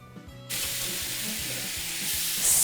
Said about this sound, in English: Sizzle away, little lammies.